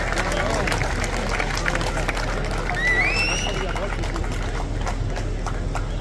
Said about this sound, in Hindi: आप सब जोरदार तालियों से सावित्री जिंदल जी का स्वागत करें